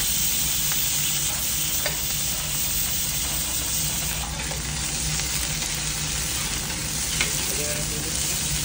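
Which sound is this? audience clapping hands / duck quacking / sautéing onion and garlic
sautéing onion and garlic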